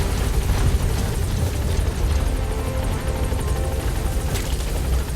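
A helicopter in Metal Gear Solid V: The Phantom Pain thrums loudly and continuously, its rotor chop beating steadily and close with no voices over it.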